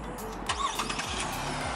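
A 2018 Chevrolet Colorado ZR2 pickup with a V6 engine starts by remote start, giving a brief crank that catches into a steady idle, heard faintly from a short distance.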